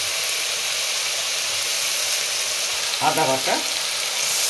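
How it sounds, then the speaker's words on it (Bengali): Chili and ginger paste fries in hot oil with a steady, close broadband sizzle throughout, while a voice speaks briefly near the end over the crackle. "জিরা ধনিয়া বাটা, মশলাটা ভাজবো"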